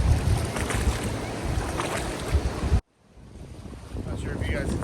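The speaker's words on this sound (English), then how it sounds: "The audio's kind of an issue with this much wind and the river behind me." Strong wind buffets the microphone beside the raging Klutina River in Alaska, a loud continuous roar of gusts and rushing water that cuts out abruptly midway, then returns more faintly.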